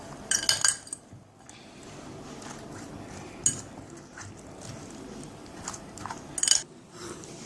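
Egg being mixed into fish pieces in a bowl, with soft wet squelching and a few sharp clinks of utensil against the bowl, quiet and close.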